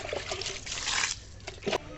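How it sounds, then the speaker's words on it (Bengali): Water splashing and trickling onto a house roof to cool it, a brief uneven spatter of pouring and dribbling with a couple of louder splashes close by. "এখন যদি একটু ছাদটা ভিজিয়ে নিই তাহলে ঘরটা একটু ঠান্ডা হবে"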